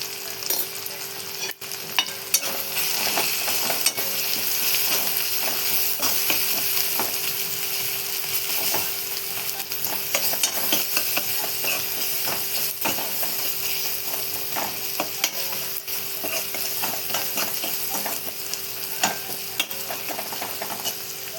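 A spoon works through spiced onion masala with aubergine, potato and peas frying in a pan, giving a continuous close sizzle with scraping stir strokes and small ticks, and no voices.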